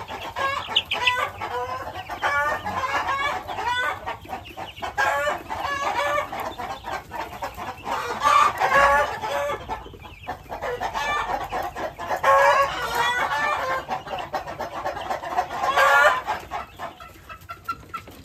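Hens and their chicks on a backyard farm, mixed with roosters, cluck and crow in a loud, busy chorus. Overlapping calls and peeps continue nearly without pause, close by and alone.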